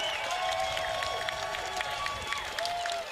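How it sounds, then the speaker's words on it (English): A crowd at an amateur boxing bout applauds and cheers steadily at a moderate distance, the clapping and raised voices forming a dense, continuous wash with no single voice standing out. "Look at these people standing and cheering."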